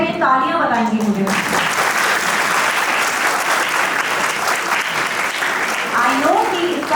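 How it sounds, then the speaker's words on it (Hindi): Enthusiastic audience applause at a play school annual day celebration swells right after a voice and runs loud and steady before her voice returns at the end. "आपको प्रोग्राम कैसा लग रहा है? ये तालियां बताएंगी मुझे।"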